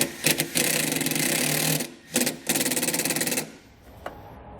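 A power driver sinks a self-tapping screw into a vehicle body, a loud, close, rapid buzzing whir that runs in bursts with a short pause between them, then stops.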